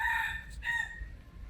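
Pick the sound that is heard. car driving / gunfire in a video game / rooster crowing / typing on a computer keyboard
rooster crowing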